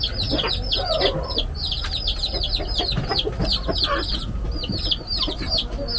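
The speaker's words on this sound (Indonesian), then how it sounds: "ternak ayam di sini Baraya." Many chickens clucking and squawking at close range in a crowded poultry shed on a chicken farm, a dense steady chorus of overlapping calls throughout.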